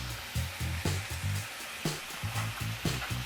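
Onions tossed into a hot pan where chicken has browned, giving a steady sizzle broken by repeated low clattering bumps from stirring or scraping, close and fairly loud with no talk.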